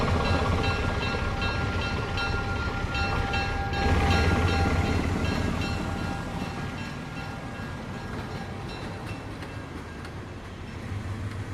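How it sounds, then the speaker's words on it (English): An old Baltimore and Ohio diesel train rolls past with a steady, dense rumble, thin sustained tonal lines running through it and a brief surge in loudness midway before it fades slightly. "old diesels like this one from the Baltimore and Ohio were introduced as the modern trains of the 50s and early 60s"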